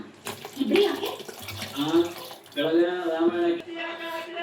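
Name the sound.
water poured into tomato curry pan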